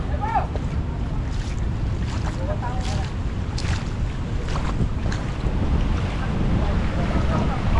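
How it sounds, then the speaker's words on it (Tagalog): Strong storm surge water churns and washes along a coastal shoreline among houses, a continuous rough roar of waves under heavy wind buffeting, with faint voices and scattered knocks. "Kusog ni ang tubig karon."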